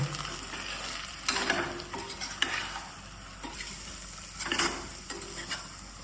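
Stuffed brinjal and leftover masala stirred in a hot pan, a continuous close sizzle broken by repeated scraping strokes of a spoon against the metal, with no talk.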